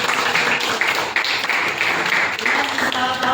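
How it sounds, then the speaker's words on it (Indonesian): A group, likely schoolchildren, applauds a girl named Intan in a steady, loud burst of clapping that carries on throughout. "Tepuk tangan dong buat Intan."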